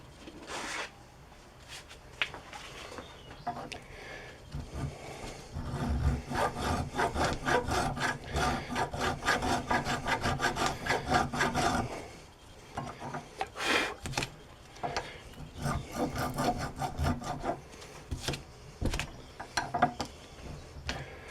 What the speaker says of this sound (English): we will run a file across them just to clean them up a little more, just to get any other rust off